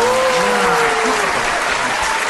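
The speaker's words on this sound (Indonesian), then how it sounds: "Kita tepuk tangan dong." A podcast studio audience breaks into continuous, loud clapping. It stays even and unbroken from start to finish, with a faint tonal hum running underneath.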